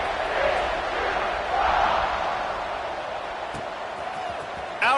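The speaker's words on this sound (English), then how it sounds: "this crowd is buzzing after that last score" Stadium crowd noise in College Football 26 during a Bruins at Horned Frogs game: a steady, dense roar and murmur that swells briefly and holds throughout, with a sharp bump at the very end.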